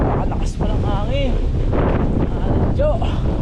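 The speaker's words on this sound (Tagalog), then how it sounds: "At napakalakas pa ng hangin." Strong wind blasts across the microphone during a long gravel bike race, a loud, constant broadband roar with rushing gusts and some faint voice-like tones underneath.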